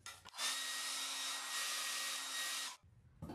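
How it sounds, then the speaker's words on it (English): A blow dryer runs steadily for about two and a half seconds, drying paint on a DIY garden gazing ball, with a loud, even broadband whoosh and a constant motor whine, starting and stopping abruptly. "Make sure you hit it with a blow dryer."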